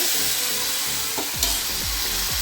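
Spinach sizzles in a hot pan while a utensil scrapes and stirs it in several quick strokes, close and clear, with no talking.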